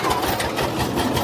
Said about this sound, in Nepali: धान लिन आउँदै ट्र्याक्टर।